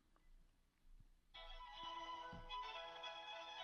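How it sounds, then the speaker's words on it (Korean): A telephone starts ringing during a live radio broadcast call, a bright electronic ring entering suddenly after quiet low rumbles and continuing steadily to the end. "자, 알람도 잘 가고 전화벨 소리도 잘 가고 있습니다."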